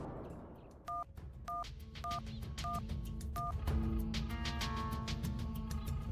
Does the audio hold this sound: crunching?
no